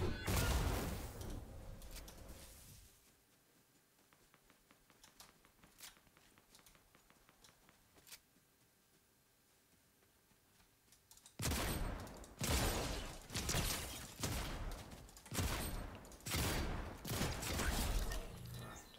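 Gunfire in the video game Fortnite: loud, dense bursts of rapid shots open the stretch, a quieter lull with faint clicks follows, then heavy repeated volleys return and carry to the end.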